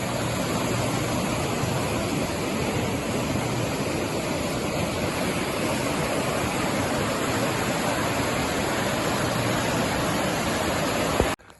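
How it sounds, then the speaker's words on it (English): A snow-melt waterfall torrent near Duncan on Vancouver Island in misty rain roars steadily and loudly without pause, with a brief bump at the very end. "Quite a torrent of water here going down."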